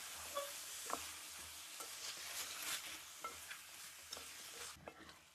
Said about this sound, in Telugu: కడిగి పెట్టుకున్న మటన్ కీమా వేసుకుందాం. ఇప్పుడు బాగా కలుపుకుందాం.